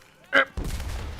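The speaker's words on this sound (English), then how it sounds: "Oh, that's a grenade." A grenade bursts in the video game Enlisted, a short sharp blast followed by a rumbling low tail of debris and reverberation, loud and close.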